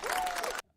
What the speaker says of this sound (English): Why did I get clapping?